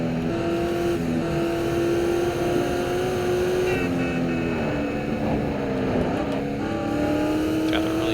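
Car engine from the video game Test Drive Unlimited: a steady, loud motor drone with shifting pitch as the car drives along, rising and falling smoothly without pause.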